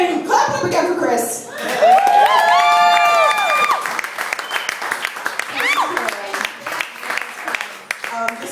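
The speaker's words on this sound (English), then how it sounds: "Clap it up again for Chris" A comedy club crowd at a stand-up showcase claps and cheers for a departing comedian, the applause rising loudly and then trailing off into scattered claps, with a voice talking over part of it.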